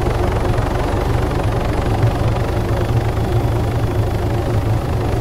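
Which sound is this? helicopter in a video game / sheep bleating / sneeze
helicopter in a video game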